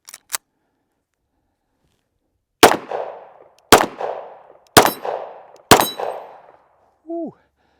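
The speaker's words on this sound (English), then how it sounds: "We'll shoot a few rounds, or shoot all 60 of these rounds actually" Sig Sauer P226 X5 Legion pistol fired outdoors: two quick sharp cracks, a pause, then four loud evenly spaced shots each followed by a ringing decay, ending with a short whoop from a voice.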